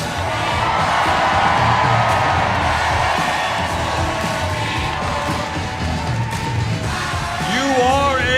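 A loud crowd at a political rally in a Detroit high school venue cheers, whoops and shouts continuously, with a voice rising over the roar near the end.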